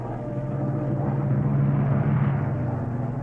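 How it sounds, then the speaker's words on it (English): A German warplane passes overhead with a continuous low droning engine rumble that holds steady and swells slightly midway, loud and unbroken with no voices. "Then this German plane comes along and spots us."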